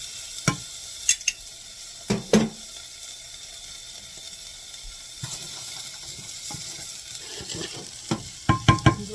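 Four crushed garlic cloves cooking in a hot pan, a soft quiet sizzle with scattered sharp clicks and scrapes of stirring utensils against the pan.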